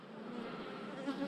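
Honeybees hum steadily around hive frames, a dense, continuous close-up buzz without pauses.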